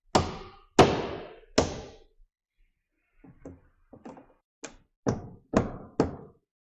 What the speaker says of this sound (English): nailing on roof sheeting is a lot of nailing